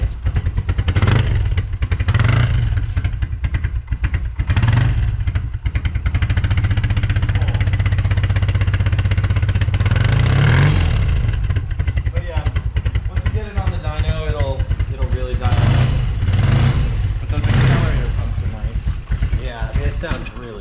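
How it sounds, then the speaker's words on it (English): A 1972 BMW R100/5 motorcycle engine cranks and fires up, then runs with a loud, steady mid-pitched rumble, rising briefly in revs, while people talk over it. "let's fire her up"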